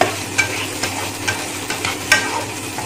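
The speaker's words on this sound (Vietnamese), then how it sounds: "Mọi người nhớ đảo đều tay cho tôm nó thấm áo đều gia vị lên nha." Shrimp stir-fried with garlic butter sizzles steadily in a pan while a utensil scrapes and tosses at uneven intervals, close up and with no voices.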